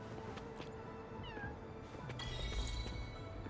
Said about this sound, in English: Little kitty.